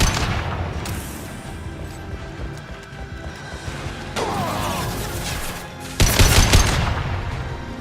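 Gunfire in the Mass Effect 2 video game, bursts of rapid shots and heavy impacts amid a busy battle din, rising to a loud close volley near the end.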